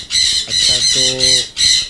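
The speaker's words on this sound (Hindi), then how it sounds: "यहाँ पे मैं देख रहा हूँ अमेजोन का येलो क्राउन का एक पेयर मौजूद है" A yellow-crowned Amazon parrot from a breeding pair lets out loud, harsh squawks in repeated bursts close by, while someone talks between and under the calls.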